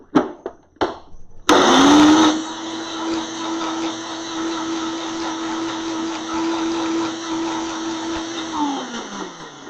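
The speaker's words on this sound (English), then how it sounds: "then it's just a matter of blending it" A blender whirs steadily as it purees a garlic remedy, starting after a few short knocks and clunks and holding a loud even drone, then winding down at the end.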